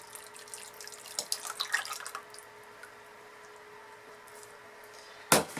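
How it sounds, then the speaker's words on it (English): Goat's milk pours and splashes into a container in short bursts, then a quiet pause and a sharp clunk at the end. "And we'll pour our goat's milk right in."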